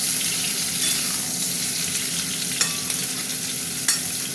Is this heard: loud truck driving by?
no